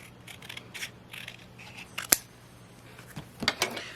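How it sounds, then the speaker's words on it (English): Scissors snip a small strip off the material for an arched window pane, a few short, crisp cuts close by with light handling noise between them. "So I just cut a little 1/8 of an inch off"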